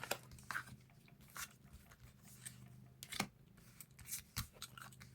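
A deck of tarot cards is shuffled and five cards are drawn, giving quiet, crisp riffles and flicks in short separate bursts with brief pauses between them, heard close up.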